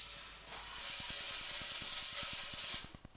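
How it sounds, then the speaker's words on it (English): A sanding pad rubs up and down a mountain bike frame in steady, rapid strokes, a close rasping scrape that swells in after a quiet start and cuts off near the end. "The only thing I do is rub the frame up and down with such a sanding pad."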